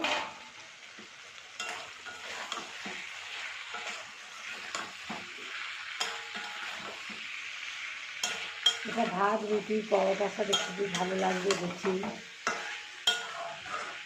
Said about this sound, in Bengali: ফুলকপি ভাজাটা এবারে দিয়ে দেব দিয়ে আমি আরও দু মিনিট কষে নেব